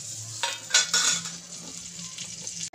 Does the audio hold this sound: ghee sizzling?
yes